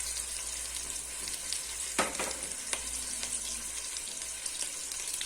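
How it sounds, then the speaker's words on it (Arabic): Butter sizzling and frying in a pan with a steady close hiss and a few sharp crackles and pops, no talking. "هنايا نزيده مغرف صغيره تاع زبده، ولا مغرف كبيره ماهاش معمره مليح تاع زبده"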